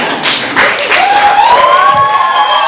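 Wedding guests applaud loudly together, a sustained wash of clapping close by, with a thin whistle-like tone rising through it.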